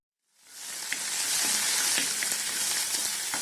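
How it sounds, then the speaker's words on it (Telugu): Onion and two green chillies hit hot oil left in a pan, rising quickly into a loud, steady sizzle with faint spatters and the occasional stir. "2 పచ్చిమిరపకాయలని వేయించుకోవాలి"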